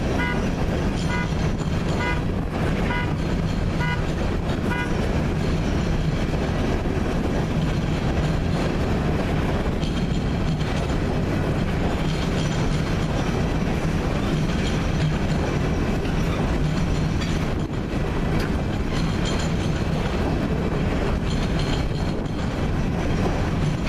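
A single CN freight locomotive heading northbound rumbles past loud and close, with horn blasts near the start over a steady roar of engine and rolling wheels that fills the whole stretch.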